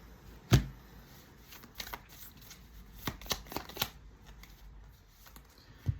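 Deck of tarot cards handled and shuffled close by, with a sharp tap followed by scattered light snaps and riffles at an uneven pace in an otherwise quiet room.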